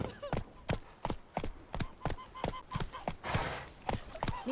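Hooves clip-clop rapidly as a horse gallops in The Witcher 3, a fast, even rhythm of sharp, close thuds repeating steadily throughout.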